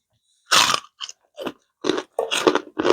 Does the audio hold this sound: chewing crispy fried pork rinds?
yes